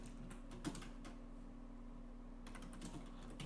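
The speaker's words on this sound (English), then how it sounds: "Type the word sub." Keys are tapped on a computer keyboard in two short bursts of faint, quick clicks separated by a quiet pause, under a steady low electrical hum.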